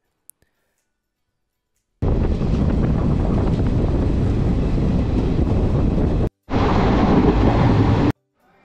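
Train at a station platform, a loud, steady rumbling roar of the moving carriage that cuts off briefly, then returns before falling silent, with no talk.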